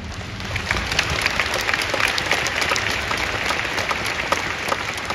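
Fagiano Okayama supporters clap in unison across a packed football stadium during the match against Akita, a dense, steady wash of applause that holds at an even level throughout.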